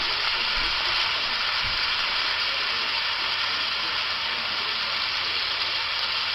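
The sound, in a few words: beef rouladen browning in a frying pan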